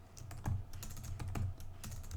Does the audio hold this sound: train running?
no